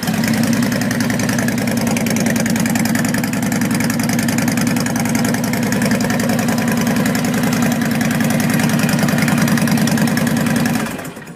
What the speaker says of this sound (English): Sounds more like a motorcycle, less like a lawnmower.